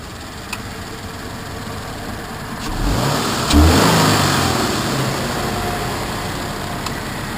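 A Scion FR-S sports car engine idles, then revs briefly with a deeper exhaust rumble before settling back to a steady idle.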